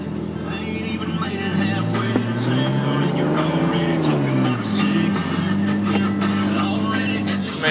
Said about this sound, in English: My truck's loud as hell on the outside of it, but the inside's not that loud.